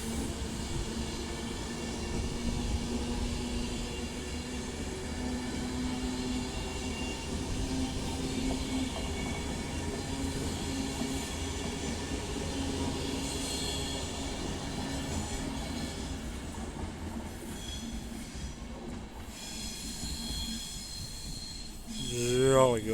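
Class 390 unit 390 006 sits at Stafford station, giving off a low, steady rail hum and rumble at moderate distance with faint metallic tones, ending in a brief rising squeal as it stirs near the close.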